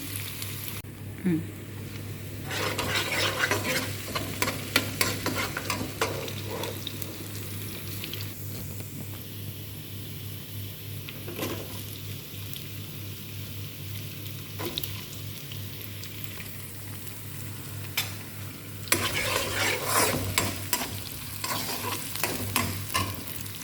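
Onions fry in a pan with shrimp and vegetables for a fried rice dish. A continuous close sizzle comes with repeated scraping stirs in bursts, and a low steady hum runs underneath.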